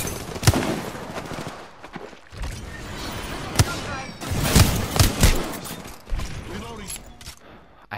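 Rapid video game gunfire from hip-fire shooting crackles in loud, dense bursts with mechanical clatter and creaks between volleys, fairly close and busy throughout.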